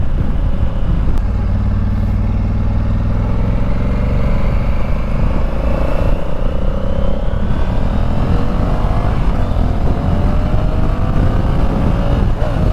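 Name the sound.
Honda motorcycle riding on a circuit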